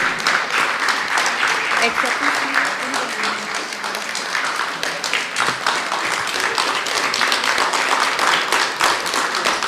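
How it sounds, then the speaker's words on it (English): A crowd at a legal excellence awards ceremony gives sustained, dense applause for an award recipient, loud and continuous, with voices faintly mixed in. "A thunderous round of applause for Ms. Gayatri Luthra"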